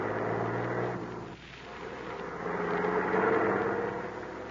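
Car engine humming steadily on a main highway as a radio drama sound effect, a continuous drone that dips briefly and then swells louder again.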